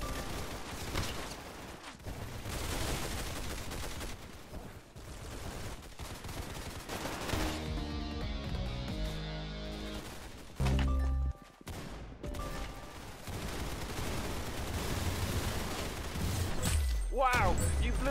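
Gunfire from a shooter video game, with rapid bursts of shots and impacts over game sounds while players talk throughout.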